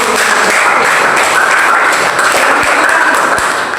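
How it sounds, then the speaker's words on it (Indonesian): A classroom full of students clapping hands together, a dense continuous patter of applause held steady at close range with no talk over it. "Kasih tepuk tangan dulu"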